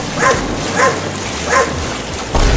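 A dog in a Hindi desi comedy sketch barks in a rescue scene, giving four evenly spaced sharp yips over a loud, noisy background.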